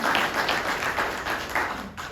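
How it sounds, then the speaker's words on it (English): Applause for high school Key Club students at an Indianapolis Kiwanis meeting, a room of hands clapping steadily for about two seconds at moderate level, a few louder claps standing out, with no voices. "So good applause for the kids."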